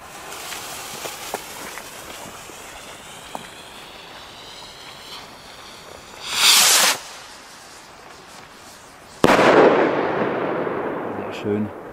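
A rising whistle ends in a loud, low Magnum shell rocket burst, followed a few seconds later by a second, longer crackling explosion outdoors.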